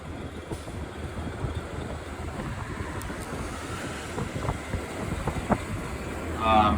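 Wind buffets a Disney Skyliner gondola cabin moving over a lake, a steady close rushing roar with microphone wind noise and low rumble throughout, with a brief gust near the end.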